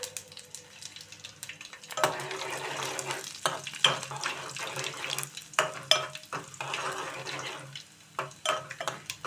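Crushed garlic cloves dropped into hot oil for a bitter gourd curry, with soft sizzling and repeated clinks and scrapes of a spoon stirring in the pan, close and intermittent, no talk.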